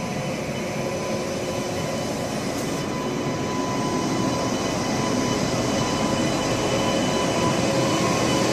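Train at Prayagraj Subedarganj railway station, a steady, loud rumble of rolling wagons that holds evenly throughout with no voices.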